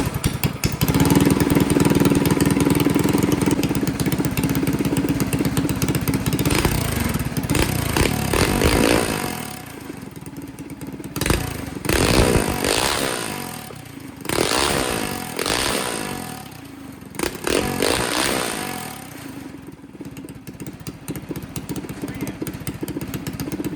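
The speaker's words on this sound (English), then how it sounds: "let's see if this engine will give us a first start" Stage 3 Predator 212 small engine on a yard kart, started on choke, runs loud and close with a rough, busy idle and several sharp revs in the second half.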